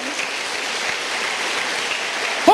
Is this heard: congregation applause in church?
yes